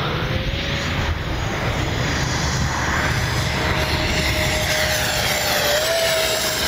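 A Freewing F-14A Tomcat twin 64mm electric ducted-fan RC jet makes a low pass, its steady whining roar holding loud and continuous with a faint rising tone near the end, heard alone without talk.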